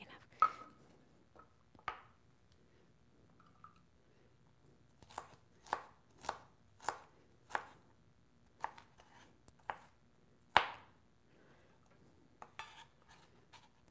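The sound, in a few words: chopping ingredients for raw vegan not-tuna recipe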